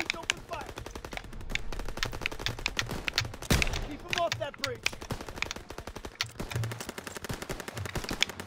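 Rapid gunfire fills a Call of Duty WWII gameplay mission, with dense machine-gun bursts and single shots rattling continuously as a player talks over the action.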